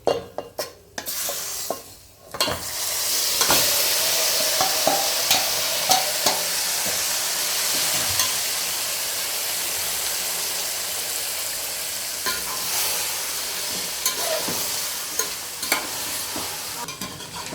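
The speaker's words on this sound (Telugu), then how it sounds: "బాగా మిక్స్ చేసుకోవాలండి." Chicken being stirred into a spice mixture for Sunday dum biryani, steady close scraping and wet mixing with a faint sizzle and occasional clinks of a spoon against the pot, continuing throughout without speech.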